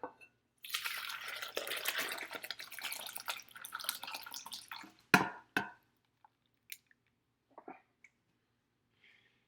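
Gravy and oil pour in a steady, close stream into a container for several seconds, then stop, followed by a few scattered drips and small taps.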